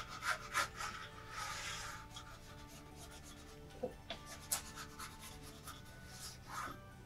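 Rubbing strokes of a burnishing tool across an inlay mount board during picture framing, a soft continuous rasp with a few sharper scrapes, close and fairly quiet.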